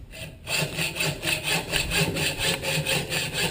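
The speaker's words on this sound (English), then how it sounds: "It's a hacksaw. It's using the teeth to cut" A hacksaw cuts through a bike part with steady, rhythmic back-and-forth strokes, roughly three per second, each one a bright rasping scrape. It is close and loud, with no voices.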